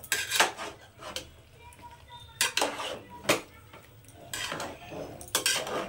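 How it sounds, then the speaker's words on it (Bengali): A utensil stirs vegetables and spices in a pan, with loud, irregular scrapes and clinks against the metal in bursts over several seconds, close and prominent. "এবার মশলার সঙ্গে এটার সঙ্গে খুব ভালো করে মিশিয়ে নেব"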